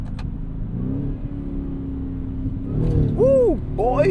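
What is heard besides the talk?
2024 Ford F150 Raptor R engine, manual mode gear shifts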